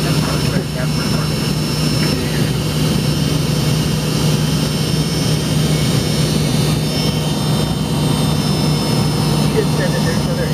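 Delta MD-88 jet engine starting during pushback, heard from inside the cabin as a loud, steady drone with a sustained low hum and faint high whine, continuous throughout.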